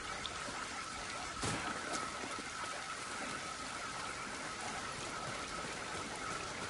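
Rain falls steadily in Ghost of Tsushima, a continuous even hiss of drops with a faint thud near the start and no voices over it.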